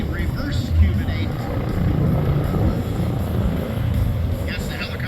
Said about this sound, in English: It's actually a fairly small helicopter.